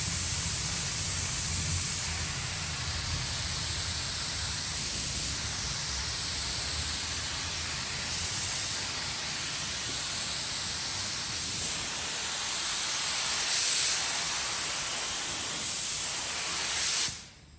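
Steady close spray gun hiss laying medium paint coats on the roof of a 1987 Ford Bronco, continuous broadband spray with slight surges, cutting off abruptly at the end.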